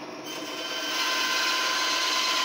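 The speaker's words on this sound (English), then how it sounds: "Very safe running the camera and the bandsaw at the same time." A bandsaw runs while cutting up paper checkbooks, giving a steady high whine that grows slightly louder partway through and then holds constant with a faint rasp, no voices.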